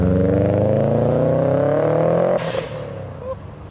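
A Subaru Impreza engine, an all-wheel-drive rally car, gives a loud, close, rising rumble that cuts off abruptly and leaves a lower, lumpier idle burble.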